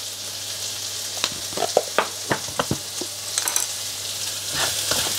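Food seasoned with salt and stock powder frying in a pan with green chili, a constant loud sizzle broken by a run of spatula scrapes and taps as it is stirred.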